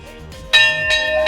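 A hand bell by a restaurant exit in Islamabad, rung by leaving diners: two or three bright, ringing metallic strikes close by, each with a long shimmering decay, under low background murmur.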